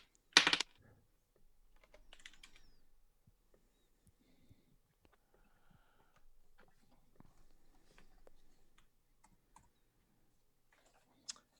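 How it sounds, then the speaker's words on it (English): Computer keyboard keys are tapped in short, irregular bursts of quiet clicks with pauses between them, opening with one louder clatter and ending on a single sharp click. "I'm having real trouble typing anything"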